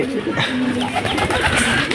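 Pigeons in a netted enclosure give soft, repeated cooing close by, mixed with low background voices.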